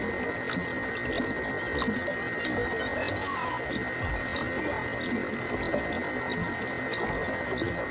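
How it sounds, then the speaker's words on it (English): A steady wash of moving water from aquarium pumps, pipes and vats runs continuously and evenly, with a constant hum underneath. "That's why we have all these pumps, pipes, vats, and valves to keep water in the aquarium moving."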